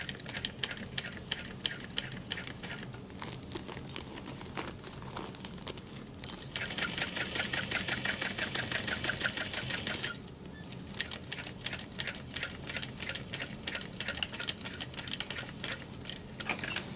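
An industrial sewing machine stitching fabric, a steady rapid mechanical clatter of needle strokes running almost continuously, with a denser, brighter stretch of fast stitching in the middle and no talking.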